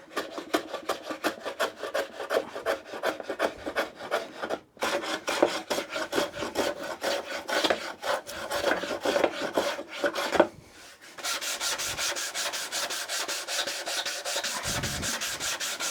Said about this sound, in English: we're just sanding a slight chamfer into this end grain